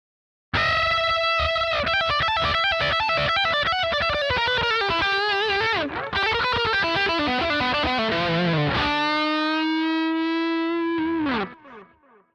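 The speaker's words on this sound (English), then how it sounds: "And here's the sound of the mix with a delay that's used more for soloing." Distorted lead electric guitar through a wet-dry-wet stereo soloing delay, playing a fast melodic run with bends and echoing repeats, ending on a long sustained note that fades out, loud and unaccompanied.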